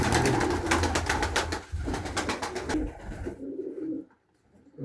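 Pigeons coo in a steady, pulsing rhythm close by, the soft throaty calls overlapping before fading out near the end.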